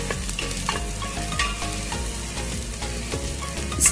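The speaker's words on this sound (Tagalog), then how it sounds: "Saute the onion first." Onion sautéing in olive oil in a large pot gives a steady, close sizzle with stirring scrapes and soft clinks running through it, and no voices.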